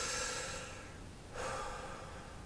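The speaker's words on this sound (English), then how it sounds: "There's a chest breath." A deliberate chest breath drawn in as a singing exercise, a soft airy inhale rising near the start, then a second audible intake after a brief lull, close and fairly quiet with no talking.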